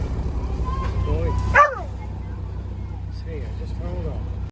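A dog barks and yips a few times aboard a narrowboat moored on the River Thames, heard over a steady low engine hum, with a sharp knock near the end.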